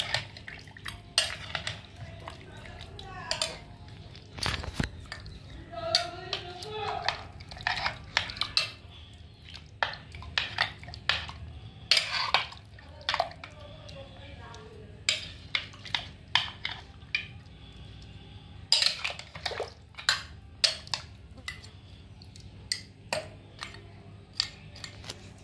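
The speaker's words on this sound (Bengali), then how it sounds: "হাতাটা দিয়ে ভালো করে মাংসটা উপর নিচ করে দেবো" A ladle stirs and turns meat with garam masala in a pot, giving repeated irregular metallic clinks and scrapes against the pot, close and fairly crisp, with no talking.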